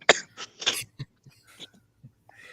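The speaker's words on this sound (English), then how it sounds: "Sorry, I had a cough." A person coughs several times in quick, harsh bursts close to the microphone, followed by quieter throat noises and breaths.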